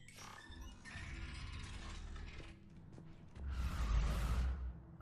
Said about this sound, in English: Hello, door. Closing on me.